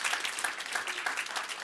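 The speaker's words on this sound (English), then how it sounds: "If I can't get a round of applause for that, I don't know what can." An audience at the Shmoocon 2009 security conference breaks into applause, a dense, steady patter of many hands that fills the short moment with no voices over it.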